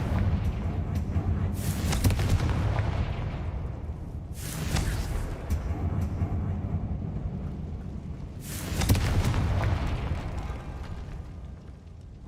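Confringo blasting spell explosions in Hogwarts Legacy, three loud booming blasts spaced a few seconds apart, each bursting sharply and rumbling away, over continuous game background noise.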